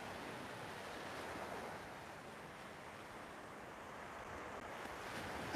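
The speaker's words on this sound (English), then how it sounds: "nobody bothering you, sound of the waves." Ocean waves break steadily on a beach at South Padre Island, a continuous wash of surf with some wind rumbling across the microphone, no voices.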